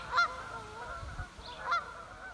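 Geese honk outdoors on a breezy day near a cabin, giving two faint, nasal calls about a second and a half apart, with wind rumble underneath.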